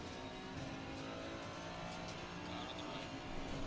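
A BMW race car in a racing video game roars past with a steady high engine drone, loud and continuous throughout, with a faint tire squeal near the end.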